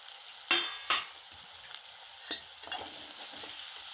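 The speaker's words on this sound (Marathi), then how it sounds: "कांदा अद्रक लसूण मीठ मसाला सगळं ह्याच्यात मिक्स होतंय" Onion, ginger, garlic, salt and spices being stir-fried in a pan for a chicken curry: a constant bright sizzle close by, with several distinct stirring scrapes and clinks and no talking.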